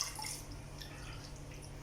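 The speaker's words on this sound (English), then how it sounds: "So you can just keep adding some water." Water added to banku while it is stirred, soft dripping and wet sloshing close by in a brief stretch with no voices.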